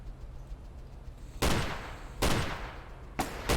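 Gunfire in the video game The Division 2 erupts in three loud, abrupt bursts separated by brief quieter gaps over a low background rumble.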